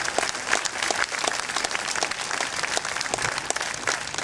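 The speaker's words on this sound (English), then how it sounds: "One more round of applause for all of our honorees today" An audience applauds honorees at a Salute to Freedom ceremony, with dense, loud clapping that stays sustained and even throughout and no one speaking.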